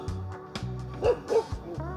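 A pack of dogs at a spot where dogs are kept tied up barks and yips close by in quick repeated bursts, with a few higher whimpering yelps in between.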